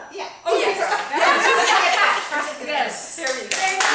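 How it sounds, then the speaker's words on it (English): An audience at a speech club meeting claps loudly and continuously for several seconds, with chuckles and a few voices mixed in. "You can Yes. still hand it to her so we can all clap."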